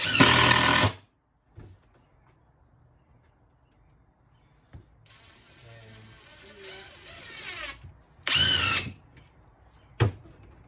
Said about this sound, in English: So we'll just drill this down.